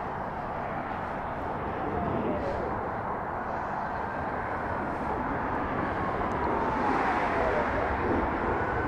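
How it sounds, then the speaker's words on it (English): A Delta Boeing 767 heavy, flight 548 to New York, departs runway 24 Left at Los Angeles International Airport, giving a steady broadband jet roar that swells slightly and holds loud and continuous throughout. "Delta 767, is this an arrival or a departure? This is a departure."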